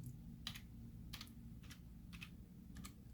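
Someone types on a computer keyboard in short bursts of key clicks, four or five quick clusters separated by pauses, close and quiet with no talking.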